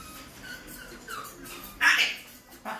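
A small dwarf spitz being groomed with scissors gives a short high whining cry, close and fairly loud, amid quiet background noise.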